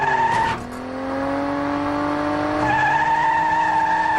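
An Indy car racing simulator ride gives a sustained high engine whine that rises in pitch, breaks off briefly and then climbs again, loud and close.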